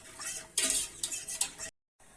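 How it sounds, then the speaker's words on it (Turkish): A spoon stirring semolina milk pudding in a pot makes close, irregular scraping and clinking strokes against the metal, with a brief silence before the stirring resumes. "Tenceremin altını açıyorum sürekli karıştırarak koyulaşıp kıvam alana kadar e, kaynatıyorum"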